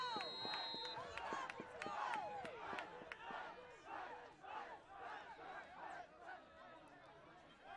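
Crowd noise from a high school football game between West Fargo and Fargo South, picked up by a sideline crowd mic: a steady roar of voices, shouts and cheering with sharp transient claps and thuds throughout, fairly close and continuous.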